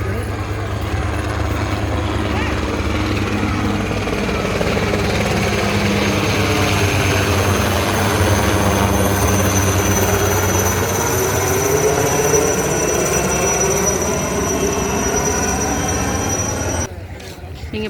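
A helicopter flies over a Republic Day parade in Chennai, its continuous loud whirring rotor drone holding steady for a long stretch before fading slightly at the end.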